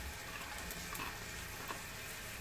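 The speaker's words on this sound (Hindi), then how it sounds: "ऑयल डालने के बाद इसमें मैं अनियन ये ऐड कर दूंगी, अनियन के बाद कैरेट्स ये भी ऐड कर दूंगी" Onions and carrots fry in hot oil with a steady, even sizzle that holds at a low, constant level for the whole stretch, with only faint stirring crackles and no voices.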